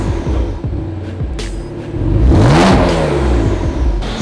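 A 2015 BMW M4 F82 engine revs up close and loud, with the pitch rising and falling through several throttle blips. No one speaks.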